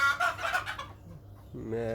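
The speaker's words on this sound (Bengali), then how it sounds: "বেশ কিছু দেশি মুরগি আছে" Native chickens on a rooftop poultry farm cluck and call nearby in a short burst, then go briefly quiet before another hen's voice rises, with no talking.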